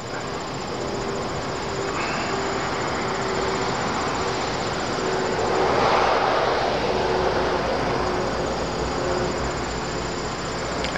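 Low-flying jet aircraft passes over Syracuse, New York at roughly 500 feet, a continuous roar that swells to a peak midway and then eases off, with a faint steady tone running beneath it.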